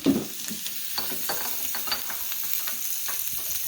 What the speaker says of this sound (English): And then you mix the egg again.